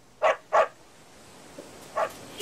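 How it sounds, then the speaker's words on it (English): A dog barking in the video game Yakuza 4: two sharp barks close together, then a pause and a third bark, clear and near with no talk. "What, you couldn't hold on to the little doggy?"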